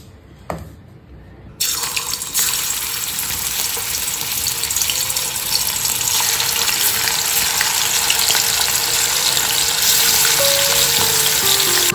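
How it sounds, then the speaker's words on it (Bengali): Rested chicken pieces drop into hot oil with chopped onion and garlic. A quiet kitchen bursts into a loud sizzle that continues as steady, close frying. "এটা এবার দিয়ে ভেজে নেব প্রথমে"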